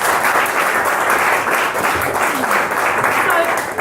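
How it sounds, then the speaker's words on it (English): Sustained audience applause for a cabaret panel at a winter workshop forum, steady dense clapping at full loudness throughout with a faint crowd murmur underneath. "Please give them a round of applause."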